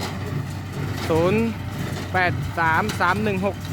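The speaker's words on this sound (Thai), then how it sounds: "นี่ก็การรถไถ L360 นะครับ" A Kubota L360 tractor engine idles with a steady low hum throughout, while someone talks over it close by.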